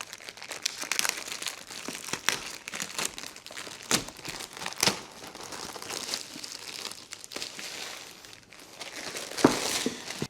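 Plastic wrapping crinkles and tears off a shoebox-sized box holding a Cybertruck toy, close and busy, with irregular rustling bursts and sharper crackles continuing throughout.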